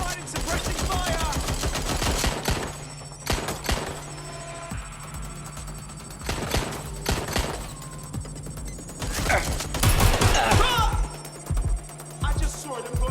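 Suppressing gunfire in Watch Dogs: Legion, clustered automatic bursts and single cracks in irregular volleys, loud and close over a humming background, with voices briefly calling out between shots.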